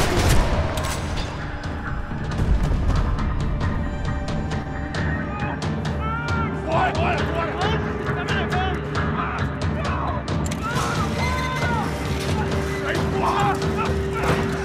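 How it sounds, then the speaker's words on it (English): Rapid bursts of gunfire rattle over loud game music and effects in Max Payne 3, with a voice speaking and dog-like yelps mixed in. "Another parking lot rattling with gunfire."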